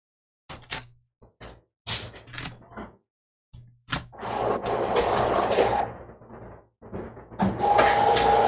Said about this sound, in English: Sounds like Mom is having some printer difficulties